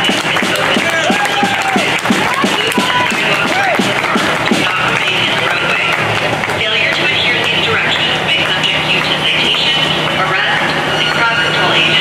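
Crowd at a street protest clapping in a steady rhythm, a dense loud wash of hands mixed with shouting voices and general crowd noise throughout.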